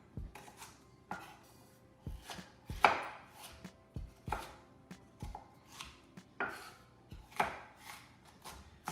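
Celery stalks are chopped with a knife on a board for potato salad: a steady series of about a dozen distinct, moderately close chopping knocks with no speech.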